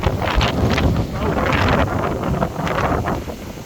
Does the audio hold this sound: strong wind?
yes